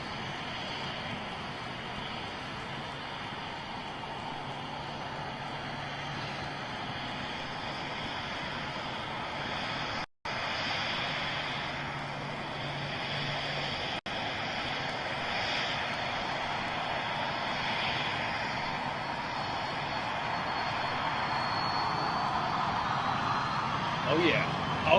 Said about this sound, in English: we'll get a bit of Pratt & Whitney spool up